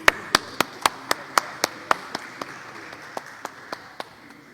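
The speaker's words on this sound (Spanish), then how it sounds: "Aplausos nuevamente al panel, por favor" Scattered, steady claps from a small conference audience applauding a panel, about a dozen sharp separate hand claps at an even pace, fading slightly toward the end.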